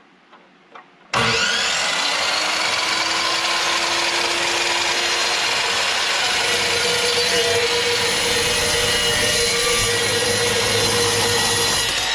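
Power saw cutting steel for a welded door frame: after a brief quiet start it bursts into a loud, continuous high-pitched grinding whine that holds steady for over ten seconds, close and alone.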